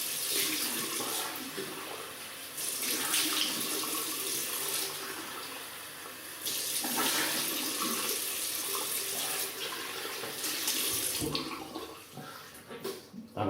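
A bathroom tap runs steadily as someone rinses off after a wet shave, water rushing loudly and continuously with slight changes in flow as hands move through the stream.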